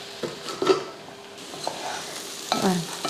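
Ivy gourd and potato fry tossed with masala powder in a pan, with a few scraping stirs and clinks of a spatula over a soft sizzle, close and moderately loud.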